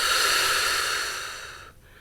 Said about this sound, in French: On inspire. On retient légèrement notre respiration. Et en soufflant,